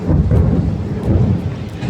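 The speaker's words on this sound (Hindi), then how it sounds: "कितनी तेज घुरघुरा रहा है, बहुत तेज बारिश आएगी" Deep thunder rumbles steadily and heavily, rolling on without a break, with a soft patter of rain underneath.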